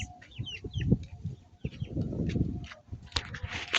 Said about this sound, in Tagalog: So many chickens.